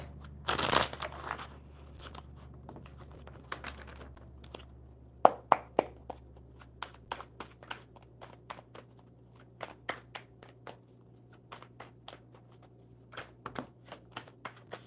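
Playing cards being shuffled at a table during a live coffee-and-cards session, with a burst of riffling followed by a long run of crisp, evenly spaced snaps and taps, close and alone without talk.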